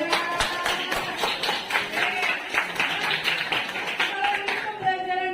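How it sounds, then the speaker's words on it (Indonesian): A classroom of students claps for everyone, with rapid, uneven hand claps throughout and voices mixed in, ending with a brief tonal sound. "tepuk tangan dulu buat semuanya"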